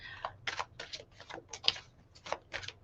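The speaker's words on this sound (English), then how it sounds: "Apparently, Kai, I am instructed to just shuffle the poop out of these cards." Oracle cards being shuffled by hand, a series of quick, soft riffling bursts in an uneven rhythm, close and fairly quiet with no talking.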